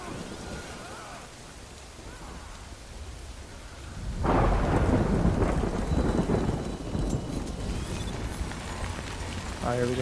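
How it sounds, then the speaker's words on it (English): Heavy rain and rolling thunder from the Death Stranding video game form a loud, dense roar that swells sharply midway and stays steady, without any speech over it. "Good thing it was raining."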